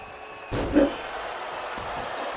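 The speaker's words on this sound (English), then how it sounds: "Slams her down head first into the mat." A wrestler is body-slammed head first onto the mat in WWE 2K25, giving a single sharp, heavy thud over a faint arena crowd, followed later by a softer second impact.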